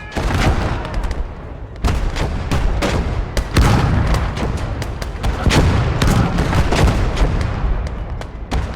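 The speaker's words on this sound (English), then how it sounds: "Two heavy field guns." Heavy field guns in the video game Blood Red Snow fire in a rapid barrage of loud booming blasts, one after another with overlapping rumbling echoes and no pause.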